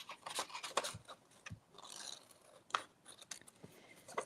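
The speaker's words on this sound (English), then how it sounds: "And I want to cut off this flap." Scissors or a blade cutting away a flap on a paper craft project: close scraping and snipping rustles with a few sharp clicks, all fairly quiet.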